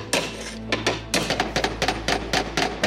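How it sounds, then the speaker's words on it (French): A hammer pierces Spanish slate roof tiles during restoration work on a royal chapel, giving a series of sharp, loud metallic taps in an irregular rhythm, close up with no talk. "Et le perçage, ça se fait avec le marteau."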